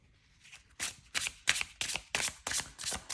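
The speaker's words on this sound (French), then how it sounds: "je vais mélanger le jeu" An Arthurian tarot deck being shuffled by hand: after a quiet start, about six crisp riffling bursts follow one another at a steady pace, close and clear, with no talking.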